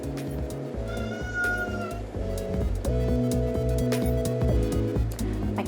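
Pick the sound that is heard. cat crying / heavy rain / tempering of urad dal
cat crying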